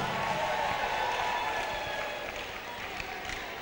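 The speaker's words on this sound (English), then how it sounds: "Please give yourself a round of applause." An audience applauds at a World Youth Skills Day event, producing a dense, steady wash of clapping that stays loud and even before easing slightly.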